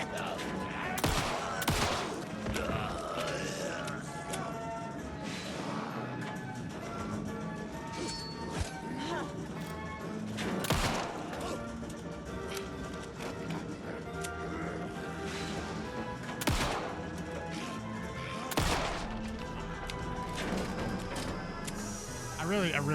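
Rapid bursts of gunfire from the survival horror game Alan Wake 2, loud repeated shots and crashing impacts over a dense, busy game soundscape, with a voice talking throughout.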